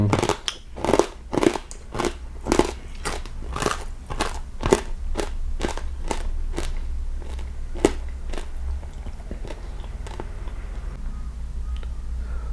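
Crispy pork belly stir-fried with chilli is chewed close up, giving a run of loud, regular crunches that start quickly, then slow and soften into quieter crackles.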